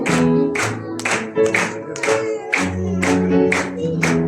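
An audience claps steadily in even, regular beats throughout a church gathering, with many hands striking together and no talk.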